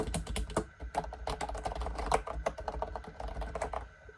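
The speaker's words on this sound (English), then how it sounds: "It has that really nice typewriter clickety clack." Fingers type fast on a computer keyboard with a typewriter-like clickety clack, a dense, uneven stream of close, crisp key clicks with brief pauses and no voices.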